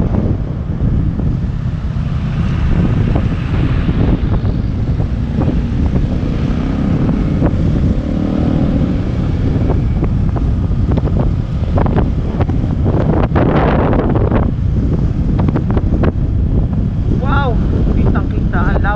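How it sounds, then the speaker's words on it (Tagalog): Strong seaside wind roars steadily into the microphone for the whole stretch, buffeting loudly over faint surf and the murmur of a boat on the water. "napakaganda ng view, kaso malakas masyado yung hangin."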